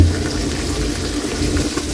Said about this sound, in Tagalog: maglalagay tayo ng tubig yan para lumambot at magtuluyang maluto ang ating pork